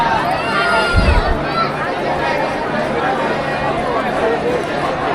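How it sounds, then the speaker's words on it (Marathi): Crowd chatter fills the queue area at Jejuri Khandoba temple, a dense, close babble of many voices with footsteps and a brief low thump, steady and loud throughout. "किती गर्दी आहे इकडं आज"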